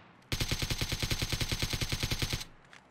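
A weapon in the video game PUBG fires a long, steady automatic burst of rapid, loud shots for about two seconds, then stops abruptly.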